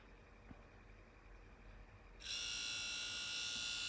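A 12V 775 DC motor with no load fitted, spinning freely, starting partway through with a sudden steady high-pitched whine that holds even and loud to the end after a quiet lead-in.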